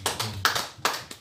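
A church congregation at an evening service claps hands in a few separate beats, each a short burst of claps, close and fairly quiet with no talking.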